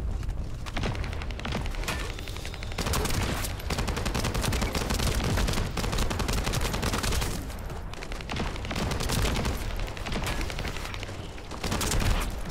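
Sustained bursts of rapid gunfire at an enemy in the video game The First Descendant, dense and loud, with booms and rattling shots continuing for the whole stretch.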